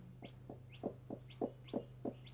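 A brooding hen sitting on eggs gives a slow series of about eight soft, evenly spaced clucks, close and quiet over a steady low hum.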